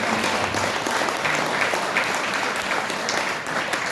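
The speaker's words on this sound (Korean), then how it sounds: "여러분 박수로 보내주십시오" Loud, dense audience applause filling a rally hall at a launch event for a national movement, continuous and even throughout.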